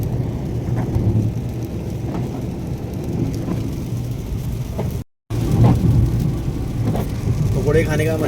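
Heavy rain with thunder during a drive along Indian village highways near Mathura and Vrindavan, a steady broadband downpour roar on the car with low rumbles throughout, briefly cutting out once midway.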